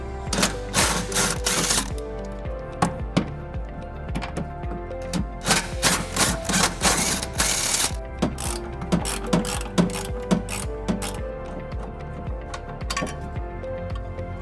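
Bolts coming off the tow hook of a 2011 Nissan Rogue during a trailer hitch install, with a ratchet clicking in rapid bursts and short pauses, plus loud metallic clinks close by.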